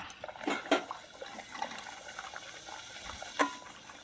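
Moong dal kachori deep-frying in hot oil, a soft bubbling sizzle throughout with a few louder crackles and pops, close and alone without talk.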